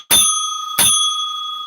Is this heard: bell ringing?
yes